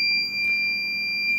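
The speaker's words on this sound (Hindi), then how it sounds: "कनेक्ट करते ही एलईडी भी ऑन हो गई और बजर भी ऑन हो गया।" A continuity tester's buzzer sounds steadily and alone when a jumper wire is connected across it, a sustained high electronic tone held for the whole moment at close range.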